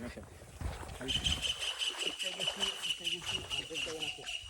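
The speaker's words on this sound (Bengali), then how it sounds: "কত সুন্দর পাখির আওয়াজ" Birds chirp and sing in bright, repeated high calls from bamboo trees in a hill village, with people talking nearby and some outdoor background noise.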